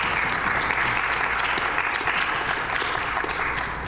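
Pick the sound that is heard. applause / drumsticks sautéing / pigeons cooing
applause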